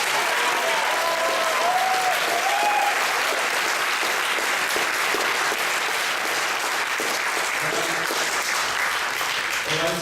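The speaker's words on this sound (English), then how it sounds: "please give a warm round of applause to the government" Steady, dense applause from a large audience at a university debating tournament semi-final, filling the whole stretch at an even, sustained level with a faint voice briefly audible over the clapping.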